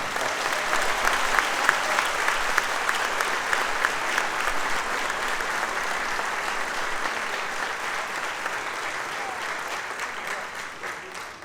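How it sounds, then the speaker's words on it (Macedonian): Sustained applause from a festival audience at the closing ceremony of the 59th Vojdan Chernodrinski theatre festival in Prilep, a steady dense clapping that holds at even loudness for the whole stretch without fading. "Аплауз за нашите поддржувачи, а и ве молам поволк аплауз за нас."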